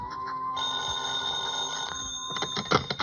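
A telephone bell rings in an old 1956 radio detective drama, a sustained bright metallic trill that breaks off, then resumes in shorter bursts near the end, close and clear with no talk over it.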